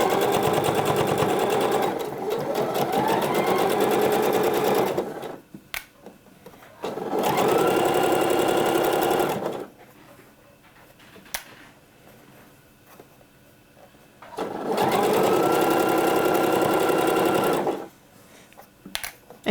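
A sewing machine works along a sleeve, first backstitching and then sewing forward, in three loud, steady motor runs separated by quiet pauses with small handling clicks.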